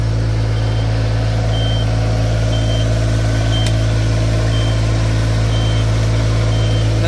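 An Iseki PR63 rice transplanter runs on a test drive with a loud, steady engine drone and a faint beeping tone repeating in the background, with no talk.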